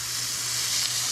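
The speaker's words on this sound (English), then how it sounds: "You like to hear that sizzle. That's how you know the cast iron's properly preheated." Thick vegan burger patties sizzling in a preheated, oiled cast iron pan, a close, steady hiss of frying that holds evenly throughout the short moment.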